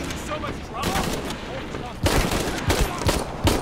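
Rapid bursts of gunfire from a gun in Shadow of the Tomb Raider, loud and dense in two clusters, with a player's voice and game noise mixed in.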